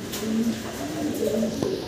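A pair of Barhuma pigeons cooing up close, soft low throaty coos repeating across a couple of seconds, with faint background rustle.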